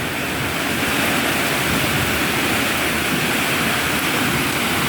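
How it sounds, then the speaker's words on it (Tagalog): Strong typhoon wind and heavy rain lash Iloilo City, a dense, unbroken roar of rushing air and pouring water that stays loud and steady throughout. "Malakas ng hangin, malakas ng ulan."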